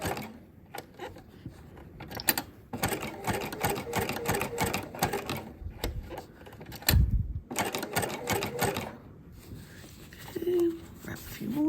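A sewing machine stitching a fabric Easter basket, close up, running in short stuttering bursts of rapid needle clatter separated by pauses as the fabric is guided.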